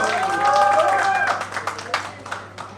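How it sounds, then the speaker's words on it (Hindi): Applause and clapping at a media song launch event for a Bhojpuri song, with a crowd clapping under steady background hum while voices talk over it. "जोरदार तालियां हो जाए"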